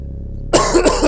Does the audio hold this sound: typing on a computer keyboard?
no